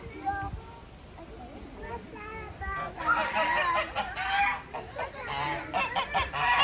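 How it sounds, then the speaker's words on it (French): Honking waterfowl calls, likely a duck at an animal park, come in repeated bursts close by, rising in the second half, with voices and children's chatter around them. "Regarde un bel canard là."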